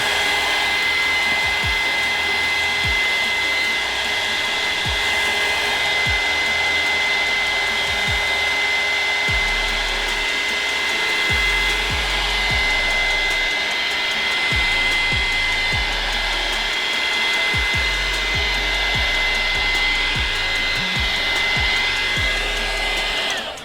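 A heat gun blows steadily on a spray-painted rolling tray from about a foot and a half away, a loud continuous airy whir with a constant whine that runs throughout, with faint low thumps underneath.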